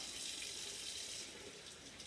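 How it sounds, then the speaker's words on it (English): Hot tap water runs in a steady, close rush into a sink as a scoured turkey roasting pan is rinsed, with no voices. "just give it a nice rinse with hot water and rinse very well."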